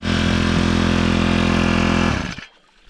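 The small engine on a high banker gold washing machine runs with a loud, steady, rumbling drone, then is switched off and winds down to near silence. The engine is close, and nobody talks.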